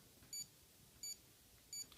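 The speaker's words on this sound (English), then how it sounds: "You'll hear a beeping noise that lets you know that your changes have been saved" A Suunto Core wristwatch gives three short, high electronic beeps at an even pace, clear and isolated against a faint background hiss.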